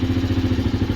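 Daelim Roadwin 125cc motorcycle engine with performance modifications, running close up with a steady pulsing low throb and a slight clatter, no voices.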